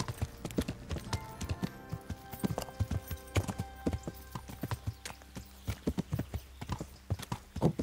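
Horse hooves clip-clopping in Kingdom Come: Deliverance, an uneven run of hoofbeats at walking-to-trotting pace, close and clear over a faint background.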